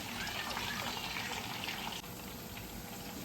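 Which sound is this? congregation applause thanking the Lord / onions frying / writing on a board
onions frying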